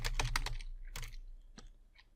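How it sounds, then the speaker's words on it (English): Fingers tap a computer keyboard while text is entered in the vi editor, a quick burst of several close, crisp keystrokes followed by a few sparser clicks, with no talking. "when I start typing"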